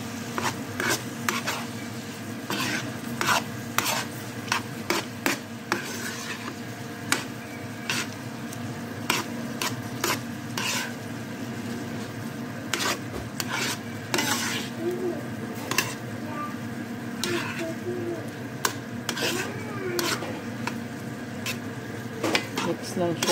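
Shrimp sizzling in a pan with turmeric and chili flakes, stirred steadily with a utensil. The scraping and clinking against the pan are close and continuous, and sizzling runs under them throughout.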